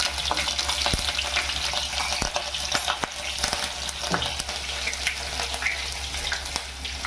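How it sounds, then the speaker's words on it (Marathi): Cumin seeds and green chili frying in hot oil in a pot, a continuous close sizzle with sharp pops and occasional stirring clicks, no voices. "तेल गरम करायला टोप ठेवलं जिरा टाकलाय आणि ही मिरची टाकते"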